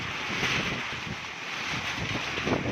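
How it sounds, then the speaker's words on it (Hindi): Steady roaring wind with a dense hiss of heavy storm rain in a village in Bhakkar District, Punjab, continuous and loud throughout, with no voices. "अब तो बहुत ज़्यादा बारिश है और बहुत तेज़ हवा है।"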